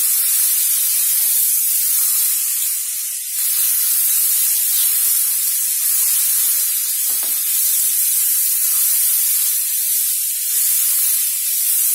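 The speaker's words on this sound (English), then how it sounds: "We'll add the green peas. We'll mix it well." Green peas get tossed and mixed in a hot pan, with a loud steady hissing sizzle throughout and brief scraping dips, close and continuous.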